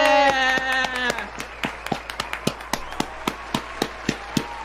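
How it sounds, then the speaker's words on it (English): Sparse, uneven hand claps, some muffled, ring out from a few people wearing fingerless gloves during a livestreamed animation contest award, after a sustained musical tone at the start, with scattered voices and cheering. "It's hard to clap in fingerless gloves."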